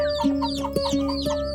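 A hen clucks in short repeated bursts, close and clear, with a steady tonal hum running underneath.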